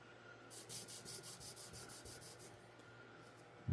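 A knife blade is sharpened on an 800 grit Trizact belt of a belt grinder, a soft, close rubbing hiss with a regular series of about a dozen short strokes over the steady hum of the machine.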